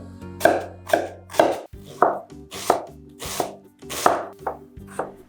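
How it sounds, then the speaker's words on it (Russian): A knife finely dices a single onion on a cutting board, giving about ten crisp, close chops in a steady, quick rhythm with no talking. "Пока греется масло, быстренько нарезаем мелким кубиком одну репчатую луковицу."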